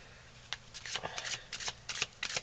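Tarot cards being shuffled for a reading, with rapid riffling bursts and soft flutters in quick succession, close and clear.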